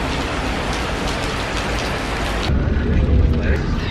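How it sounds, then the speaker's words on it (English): Rain falling outside a taxi on a drizzly day in Belarus, a dense steady patter heard from inside the car, with a low rumble swelling toward the end and no speech. "it's kind of raining outside right now"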